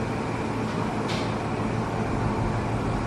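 Steady low rumble and hiss inside a nearly empty XPT passenger train running from Brisbane to Sydney, a continuous cabin drone with a brief brighter swish partway through, no talking.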